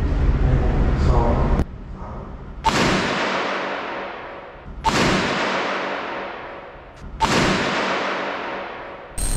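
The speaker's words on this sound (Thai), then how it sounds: "ยิงทดสอบพร้อมเริ่มยิง" Test shots fired at bulletproof helmets at a Thai helmet factory in Pathum Thani, with four loud, close gunshots spaced a couple of seconds apart, each followed by a long, fading echo, against a sustained roaring background.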